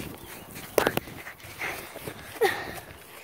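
A dog gives a couple of short whimpering yelps amid light shuffling movement, fairly near but not loud, with quiet gaps in between.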